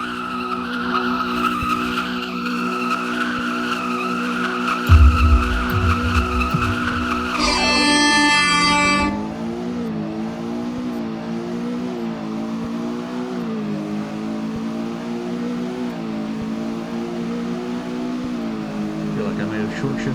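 Two 2024 Ford Falcon Stallion Ecoboost cars launching in Roblox Greenville, engines revving high with a burst of tire squeal, then a steady droning engine note climbing through the gears as a voice talks over it.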